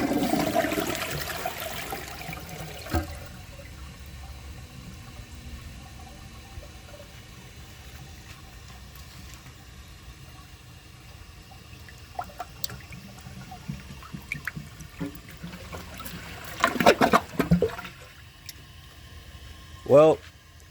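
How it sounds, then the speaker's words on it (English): A 2013 American Standard Champion 4 toilet flushes with its handle held down, a steady rush and swirl of water that fades into trickling refill, with a few clunks and a voice near the end. "So I'm going to hold the handle down and give this another flush."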